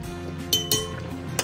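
A spoon stirs two tablespoons of salt into water in a bowl, giving three or four sharp clinks against the bowl over a quiet background, with no talking.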